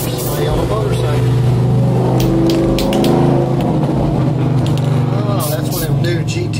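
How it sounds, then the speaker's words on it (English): A new Pontiac GTO car passing outside, a loud, steady engine drone that swells slightly and fades, with a voice speaking over it. "Oh, that's one of them new GTO cars."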